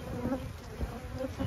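Honey bees buzz around a hive, a close, continuous insect drone with a few brief louder swells from individual bees passing near.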